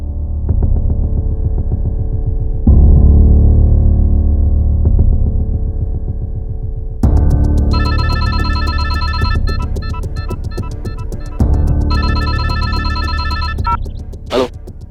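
A telephone rings in repeated bursts, loud and close, over a steady low hum with some background noise.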